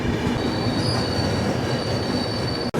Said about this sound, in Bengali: আমাদের ট্রেন এসে পৌঁছেছে এখন মেছেদা স্টেশনে